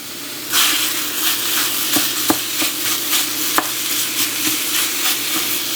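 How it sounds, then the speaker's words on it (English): Sausage meat sizzles steadily in olive oil in a hot pan, with a loud continuous hiss and occasional sharp scraping knocks as it is stirred and broken up. "We're just going to break this up and fry it off a little bit"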